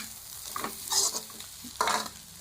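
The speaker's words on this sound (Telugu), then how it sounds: "మనం అల్లం వెల్లుల్లిపాయ పేస్ట్ కూడా వేపేసుకున్నామండి. అది కూడా బాగా ఫ్రై అయిపోయింది." Ginger garlic paste frying for egg fried rice, with a soft close sizzle under a few scraping stirs of a spoon in the pan.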